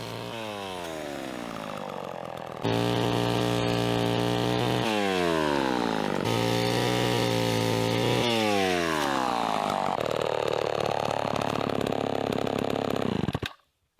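An old Homelite chainsaw engine roars loudly and steadily, revving up and down several times before cutting off abruptly at the end.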